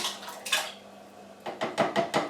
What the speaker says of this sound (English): But I'm just going to add this tin of mandarin oranges